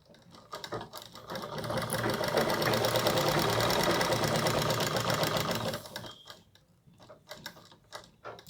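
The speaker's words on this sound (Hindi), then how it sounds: "कपड़ा लेते हुए मैं स्टिच कर रही हूँ।" A sewing machine runs a rapid, steady stitching burst through cloth while a collar suit is sewn, starting after brief clicks, holding loud for several seconds, then stopping into scattered handling taps.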